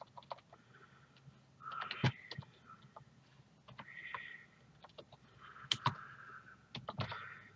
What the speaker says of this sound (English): I cannot type on this little tiny keyboard.